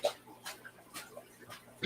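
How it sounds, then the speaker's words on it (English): Large Pit Mastiff mix dog of about 100 pounds making soft whimpers, snuffles and a faint yip, a few short sounds spaced apart, close and quiet with a louder burst at the end. "What sort of doggy is it? Pit Mastiff mix."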